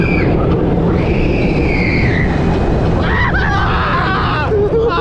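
Electric Eel launched roller coaster at SeaWorld San Diego: a loud, constant roar of wind and track rumble, with riders screaming and shouting throughout.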